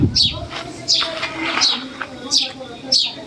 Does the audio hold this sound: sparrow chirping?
yes